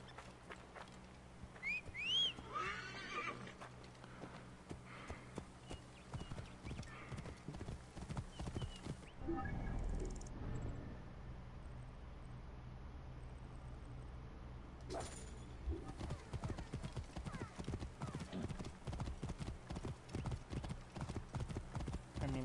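Rapid clip-clop of galloping horse hooves from a video game horse race, loud and continuous. A brief whinny rises early on, and there is a short lull midway before the hoofbeats resume.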